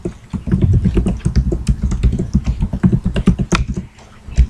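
Rapid typing of HTML code on a computer keyboard, a steady run of close, loud key clicks and clacks with a brief pause near the end.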